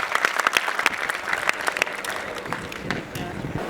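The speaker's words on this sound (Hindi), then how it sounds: "भोपाल के लिए जोरदार तालियां" Enthusiastic applause for a teacher at a science academy results celebration, dense clapping throughout, loud and close, tapering slightly near the end.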